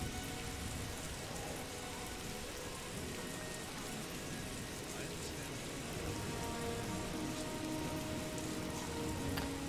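Steady rain pours down in The Elder Scrolls IV: Oblivion, a dense continuous hiss of drops with no pauses, fairly soft and even throughout.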